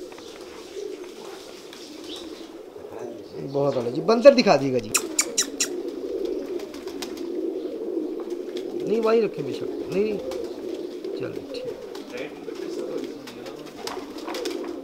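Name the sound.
Kamal pigeons cooing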